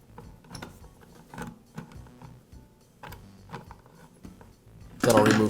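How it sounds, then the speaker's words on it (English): Nuts being loosened on the brake cover of an Echo chainsaw, heard as scattered mechanical clicks and ratcheting turns, with a louder, denser burst of metallic rattling at the very end. "I'll loosen the nuts and also loosen the chain tension."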